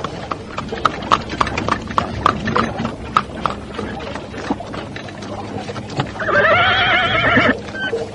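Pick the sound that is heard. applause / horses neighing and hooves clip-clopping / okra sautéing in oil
horses neighing and hooves clip-clopping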